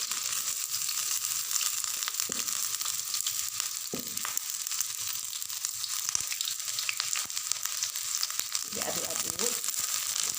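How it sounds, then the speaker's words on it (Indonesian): Onions and shallots frying in hot oil for a vegetable capcay, a continuous moderate sizzle with a few stirring scrapes, no talk over it. "Setelah minyak panas, masukkan bawang bombay,"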